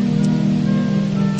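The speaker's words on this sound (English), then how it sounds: "Raindrops falling down." Rain falling steadily during a year-end motorcycle ride, a continuous loud hiss mixed with a low engine drone, with no talking.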